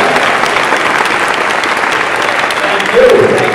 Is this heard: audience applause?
yes